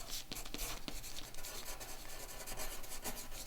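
A pencil or pen writing a name on paper, with steady close scratching and rubbing strokes, a few sharper taps, carrying on without pause and without any talking.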